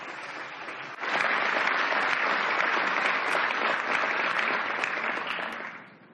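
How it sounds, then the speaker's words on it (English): Warm audience applause at a conference panel session, starting abruptly after a second of quieter room sound, then sustained dense clapping from a sizable crowd that fades out at the end. "A nice round warm of applause for that group."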